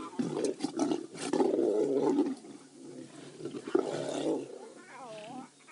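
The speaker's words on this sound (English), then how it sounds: "Now we're going to hear the whining." Lions of a pride growl and whine over a fresh nyala kill in drawn-out, moaning snarls, overlapping bursts from several animals close by, with a high whimper near the end.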